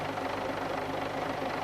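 A Volvo Olympian bus engine runs at low idle in a workshop, a steady, even mid-range drone with faint knocking, close and alone.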